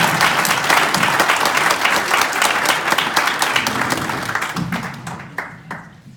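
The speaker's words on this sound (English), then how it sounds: "Feel free to applause when I pause too" A crowd at a Calgary Centre Conservative nomination forum applauds after a candidate's speech; loud, sustained clapping that thins out and tapers off near the end.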